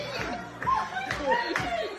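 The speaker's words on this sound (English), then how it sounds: "I love the clap." A few sharp claps come in quick succession, close and fairly loud, with chatter and light laughter around them.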